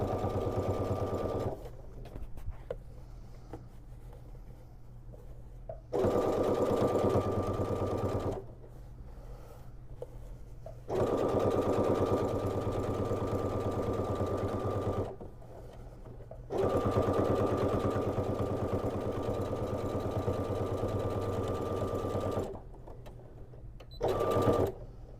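Sewing machine stitching main fabric for a crossbody shoulder bag, running in loud sustained bursts of several seconds each, separated by short quiet pauses with no talking.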